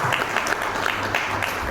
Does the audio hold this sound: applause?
yes